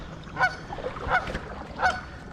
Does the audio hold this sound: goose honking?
yes